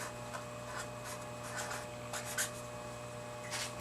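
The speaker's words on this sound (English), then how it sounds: "So we'll write that in our lab notebook." A pen writes in a lab notebook during a physics ramp-and-ball experiment, making soft scratchy strokes in short bursts, faint and close in a quiet room.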